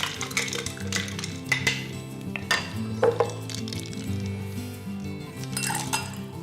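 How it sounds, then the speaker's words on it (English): A metal spoon stirs mint in a pan, with clinking and scraping against the cookware over a light sizzle, scattered clinks spread through a steady background hum. "Make sure you can give it a stir around it to make sure you get that mint in there."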